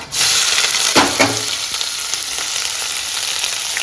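Sliced onion dropped into hot oil and ghee with cinnamon, cloves, cardamom and bay leaf, a strong close sizzle bursting in at once, with a spoon stirring briefly before steady frying continues.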